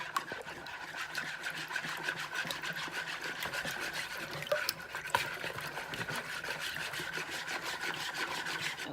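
Cornbread batter being stirred in a bowl by hand, a steady, continuous scraping and swishing that runs evenly throughout with no one talking.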